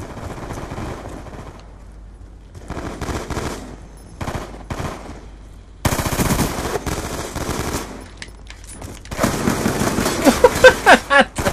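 Rapid automatic gunfire from a Call of Duty: Black Ops 2 gun game match, loud bursts that start sparse and grow denser and heavier toward the end.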